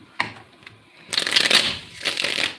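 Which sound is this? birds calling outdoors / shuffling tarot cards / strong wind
shuffling tarot cards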